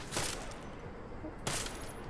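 Two loud gunshots ring out about a second and a quarter apart in the video game Deus Ex: Mankind Divided, each with a sharp crack and a brief tail over steady game ambience.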